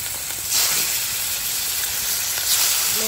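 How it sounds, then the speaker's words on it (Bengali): Ilisha fish fry in hot oil in a pan, a loud, constant sizzling hiss heard close up with no voices, swelling slightly a couple of times. "এবার ইলিশা মাছগুলো ভেজে নিচ্ছি।"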